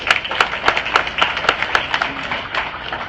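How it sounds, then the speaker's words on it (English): An audience at an education summit session claps for presenters, a modest, fairly rhythmic round of applause with distinct individual claps close by, lasting a few seconds. "A round of applause, please, for our presenters."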